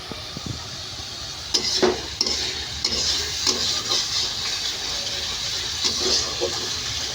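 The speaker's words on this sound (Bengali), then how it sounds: "অল্প তেল দিয়ে এখন ভালো মতো কষাবো" Onion, garlic, cumin, turmeric and chili powder with salt sautéing in a little oil for a village-style eggplant and potato curry, making a continuous hissing fry with intermittent stirring scrapes, close and fairly loud, no talk.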